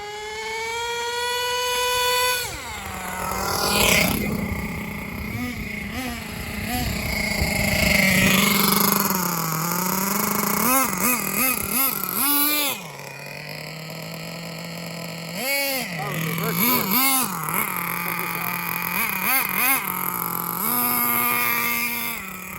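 An MGT3.0 engine revs up and down in repeated surges with a sticking throttle, the pitch climbing and hanging before dropping back, loud and close with a rough, droning tone.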